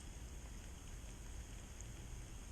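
Steady rain falling during a slow fishing outing, a continuous, even hiss of drops spread across the whole clip with no talk and no distinct events.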